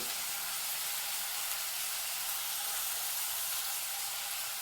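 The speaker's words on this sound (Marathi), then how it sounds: "स्लो फ्लेमवरच सगळं परतून घ्यायचं आहे" Spinach with crushed fenugreek seeds frying over a slow flame gives a steady, soft, continuous sizzle and hiss, even and unbroken throughout, with no talking.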